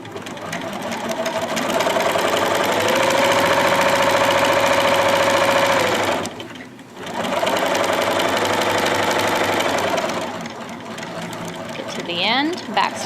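A sewing machine runs loud and steady while stitching a zipper bag and backstitching at the seam's end. It stops briefly near the middle, then resumes, with faint voice sounds underneath.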